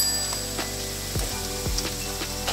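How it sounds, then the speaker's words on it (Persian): Sliced onions and other ingredients fry steadily in a pan with a continuous close sizzle, broken by a few clanks and scrapes of a utensil stirring, and no talking. "مواد رو بهش اضافه کنید که با پیاز سرخ بشه"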